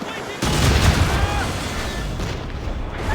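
Ship cannon fire in Assassin's Creed Rogue, a loud booming blast at the start followed by a sustained rumbling, roaring naval battle din with no clear talk.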